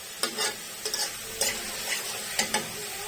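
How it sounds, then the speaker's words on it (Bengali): Spices with chilli powder being stirred in a frying pan, a few quick scraping strokes in pairs over a low sizzle, close and fairly soft. "এখন মশলাগুলো ভালো করে নেড়ে চেড়ে সব কিছু একসাথে মিক্স করে নিচ্ছি।"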